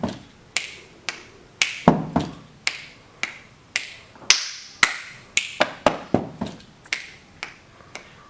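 Gentle body percussion for a children's rhyme: soft claps, pats and stamps in a rhythmic pattern, around twenty sharp light hits with short pauses, close and quiet with no voice.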